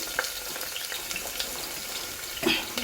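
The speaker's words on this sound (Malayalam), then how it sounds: "കുക്കറിൽ കുറച്ച് ഓയിൽ ഒഴിച്ചിട്ടുണ്ട്. കുറച്ച് സവാള വെക്കാം." Onion frying in oil inside a pressure cooker, a soft continuous sizzle with faint crackles and a brief clatter near the end, quiet and without talk.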